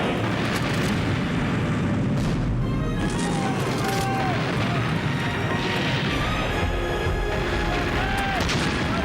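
A period sailing warship fires its cannons in a broadside, heavy booms and crashes rolling one after another alongside shouted commands and battle noise.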